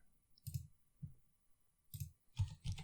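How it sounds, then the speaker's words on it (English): Quiet, close keystrokes on a computer keyboard come as a few isolated clicks and then a quick cluster of taps, with near silence between them. "Oh, I started typing Netflix."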